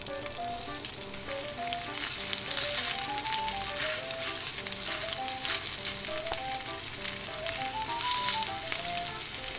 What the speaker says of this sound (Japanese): そしたらね、コロコロステーキを焼くよ。